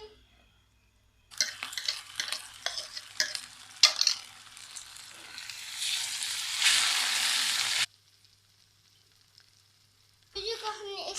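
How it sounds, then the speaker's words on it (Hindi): Semolina being stirred with a spoon into hot sugar syrup for makhandi halwa: steady scraping, sizzling and bubbling for several seconds, then a pause before a brief burst of stirring resumes. "अब हम इसमें मुसलसल चम्मच चलाते रहेंगे।"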